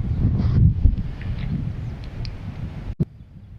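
Gusting wind buffets a microphone outdoors near shallow water, with low rumbling bursts that fade and swell, then a sharp knock near the end; no one speaks.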